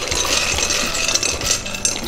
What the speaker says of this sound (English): We're gonna add our pasta now.